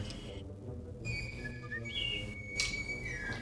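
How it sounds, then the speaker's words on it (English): A thin whistle from the film Mac and Me sounds faintly over a muffled, murky background, with a few rising and falling tones across a few seconds. "Another whistle."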